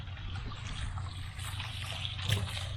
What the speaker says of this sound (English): We're just going to let the water pressure from the hose is all it needs.